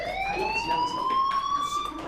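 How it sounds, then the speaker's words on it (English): Continuous electronic fire alarm tone in the video game Life is Strange, a steady, slightly rising pitched wail with harmonic overtones, moderately loud and uninterrupted, with no talk over it. "Hey, do you hear that fire alarm?"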